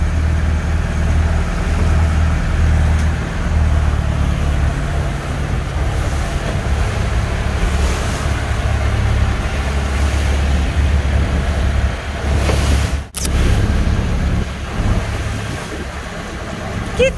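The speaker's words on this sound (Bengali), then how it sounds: "প্রাইভেট বোট নিয়ে যাচ্ছেন উনি।" Private boat cruising on the sea off Dubrovnik, with steady loud engine rumble, wind buffeting and wave wash throughout, plus a sharp brief knock near the end.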